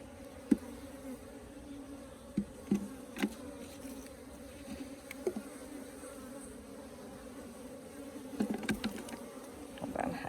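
Honey bees buzzing steadily at a wash hive with laying workers during brood transfer, a continuous close drone with individual bees darting past the mic now and then, no talk.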